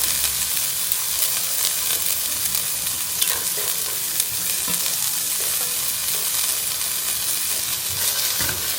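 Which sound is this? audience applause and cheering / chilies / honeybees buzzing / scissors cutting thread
chilies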